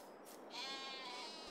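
A sheep bleats once in Farming Simulator 22, a single wavering, quiet cry lasting about a second.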